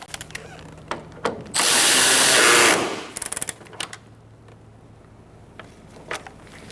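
A power tool tightens a bolt on a 2014-2019 Kia Soul 1.6L radiator, one loud burst of about a second amid scattered clicks and taps of handling nearby.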